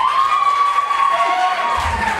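Comedy club audience at the Funny Bone in Newport on the Levee reacting loudly at close range, a brief burst of crowd cheering and clapping with a sustained whooping tone.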